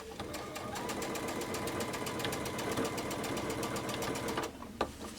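A sewing machine runs steadily while stitching a quilt along a scallop template, a fast even needle clatter with a mechanical hum, close and continuous, then stopping abruptly near the end.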